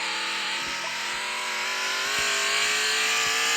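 A car drifts in a racing video game, its engine revving high and steady with faint tire scrub and occasional clicks, loud and continuous, with no talking.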